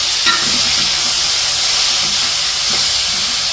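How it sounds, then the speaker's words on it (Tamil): Prawns fry in a pan with onion and tomato for a prawn curry, giving a steady close hiss and sizzle throughout, with faint stirring clinks now and then and no talking. "வெங்காயம் தக்காளி பழத்துக்கு எல்லாம் வந்து இறாலையும் போட்டேன்"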